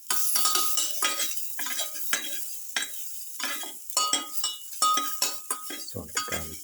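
Garlic being sautéed in a pan for a pepper, potato and pumpkin bowl, a soft sizzle broken by repeated scraping and clinking of a utensil stirring against the pan, close and moderately loud.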